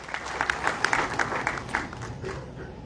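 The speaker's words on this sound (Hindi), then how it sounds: "अरुण जी, जोरदार तालियों से स्वागत कीजिए।" An audience at a BJP intellectual gathering at Jammu Club greets a speaker with applause: distinct sharp claps build into a busy patter, then thin out and fade by the end.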